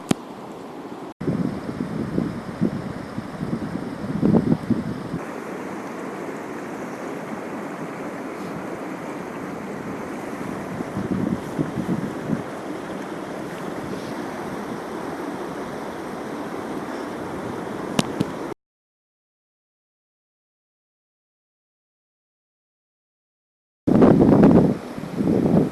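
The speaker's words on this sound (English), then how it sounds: "We've been listening to the wind all night." Wind blowing across the open highland of Dolly Sods, a steady broadband rush with gusty swells and microphone buffeting, near and fairly loud, cutting out briefly before returning strongly; no one speaks.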